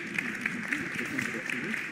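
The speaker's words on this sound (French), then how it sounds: "Applaudissez-la encore, s'il vous plaît." Audience applause for a prize winner on stage at a French-language award event, a steady wash of clapping held at an even level under a presenter's voice throughout.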